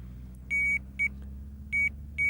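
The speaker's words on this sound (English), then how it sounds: "the electronic alarm will sound" An electronic bite alarm on a pike fishing rig gives four clear beeps over a low steady hum: a longer tone, a short one, another longer tone and a final short beep, close and prominent.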